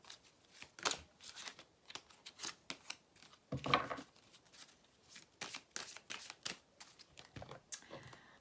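Tarot cards are handled and shuffled close up, producing soft, quick papery riffles and flicks in irregular bursts, fairly quiet with no talking.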